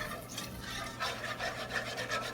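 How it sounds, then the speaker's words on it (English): A whisk scrapes steadily around a pan of roux on medium-high heat, giving a continuous close rubbing and swishing with a rhythmic pulse and no talk. "And you're just going to continuously whisk it."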